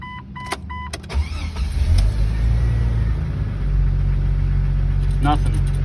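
A 1997 Jeep Wrangler TJ with intermittent dash gauges, with a few chimes and clicks before the engine cranks and catches, then settles into a steady low idle rumble while someone talks nearby.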